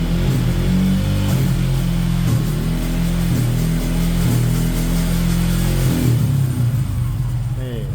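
A Yamaha Exciter 155 motorcycle engine with an Aracer quickshifter, loud and close, revving steadily with brief dips as gears are kicked through, a continuous mid-pitched drone throughout.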